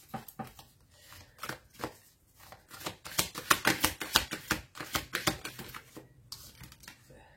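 Tarot cards shuffled and drawn by hand at close range, quick papery riffles and sharp snaps in irregular bursts, busiest in the middle, with quiet pauses between.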